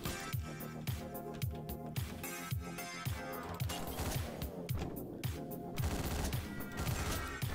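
Shotgun fire from the video game Hotline Miami, a rapid series of sharp blasts in a steady rhythm over a pulsing electronic music track, loud and continuous.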